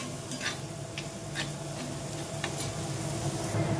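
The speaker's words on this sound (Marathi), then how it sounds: "आपण कांदा गुलाबी करून घेऊया मस्तपैकी, चांगला परतून घेऊया." Onions sauté in a pan for a Konkani-style dried Bombay duck chutney, giving a soft, steady sizzle with a few light stirring clicks, close and quiet, with no talk.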